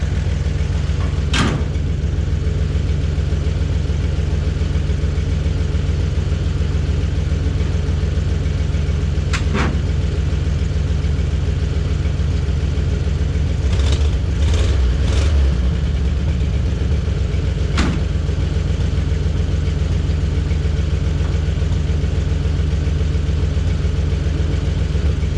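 A 1956 Chevy 3600 flatbed farm truck with a one-barrel Rochester carburetor runs steadily at idle, a loud, constant low engine drone with a brief surge near the middle and a few sharp clicks scattered through.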